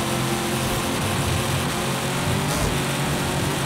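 A Dodge Charger SRT Hellcat roars at full throttle in Forza Horizon 5, a loud, dense, unbroken engine drone lasting the whole moment.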